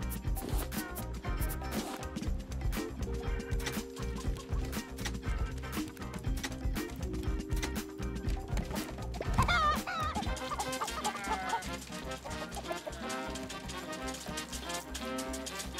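Chickens in the survival video game Raft cluck repeatedly in short, close bursts throughout, layered over continuous loud background music.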